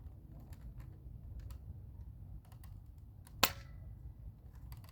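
A single sharp pop of a toy foam dart blaster firing once, fairly close, over a low steady background hum with a few faint clicks around it.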